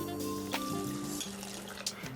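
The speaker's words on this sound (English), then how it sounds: "then I'm gonna put a little bit of the water right in here" Water poured into a pot of keto Mexican chicken chili, a brief close splash and trickle over low background hum and faint kitchen clatter.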